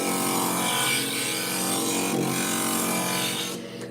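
A worn stained glass grinder shapes a piece of glass for a praying mantis panel, giving a steady, close, loud grinding whine that holds almost unbroken before easing slightly at the end.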